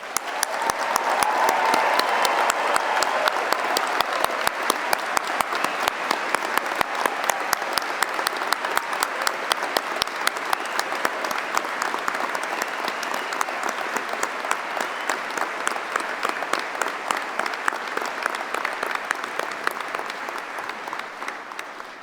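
Long, sustained applause from a graduation ceremony audience honoring award and prize recipients, a dense even clatter of many hands that holds steady for over twenty seconds before easing slightly at the end.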